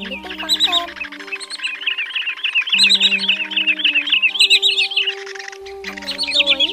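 A loud, close lure recording of white-bellied sandpiper calls, dense runs of quick high chirps over steady whistling tones, continuing without pause and with no voices.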